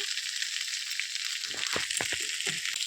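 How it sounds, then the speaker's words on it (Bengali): Bengali mutton curry of young goat with potatoes and chilli powder sizzles steadily in a pan, and a run of soft stirring knocks and scrapes joins in during the second half, with no voices. "এবার আমি আলু দিয়ে দেবো এবার এটাকে আমি ভালোভাবে কিছুক্ষণ নেড়ে নেব সামান্য লঙ্কা গুঁড়ো দিয়ে দেবো"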